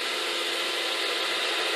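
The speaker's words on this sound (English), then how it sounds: "we'll grab a 3/8-inch Forstner bit and drill close to the handle" A power drill with a 3/8-inch Forstner bit whirs steadily as it bores into wood, a continuous high-pitched grinding drone, close and unbroken.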